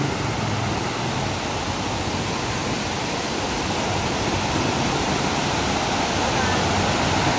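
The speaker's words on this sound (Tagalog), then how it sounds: "Ragasa guys ang tubig." Heavy rushing water pouring through a dam, a loud, steady, broadband roar that fills the whole scene without letup.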